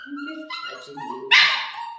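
A schnauzer puppy being groomed yelps and whimpers in several short, close bursts, ending in one loud, sharp bark that trails off into a whine.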